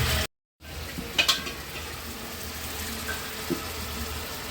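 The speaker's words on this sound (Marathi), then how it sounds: "तो मसाला परतून झालाय आपल्या एका साईडला आणि आता आम्ही मटनचा रस्सा बनवतो इकडे" Masala for a Maharashtrian mutton curry fries in a pan with a soft, steady sizzle, joined by a couple of brief clinks from a utensil near the start.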